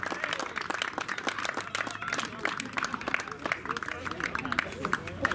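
Steady applause for the Pro 2000 class winners at a Minišoseja round 5 motorsport awards ceremony at Biķernieki track, with a crowd clapping continuously at moderate volume and a faint murmur of voices underneath.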